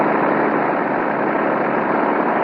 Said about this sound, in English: They're taxiing down the runway now.